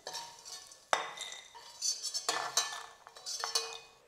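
A metal ladle scrapes and clinks against a pan as fried edible gum is lifted out of hot ghee, with several sharp knocks and a quieter scraping between them, heard close up.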